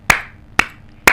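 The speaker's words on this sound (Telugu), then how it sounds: "ఇలా చప్పట్లు అబ్బాయిలు కొట్టలేరు" Three loud, sharp hand claps by a transgender woman, spaced about half a second apart, each a crisp, ringing slap followed by a short decay, close and alone.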